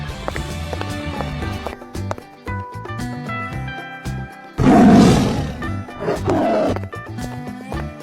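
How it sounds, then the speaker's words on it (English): A tiger's roar from an escape room challenge game bursts out loudly about halfway through and fades over a second or two, layered over busy musical accompaniment. "Tiger."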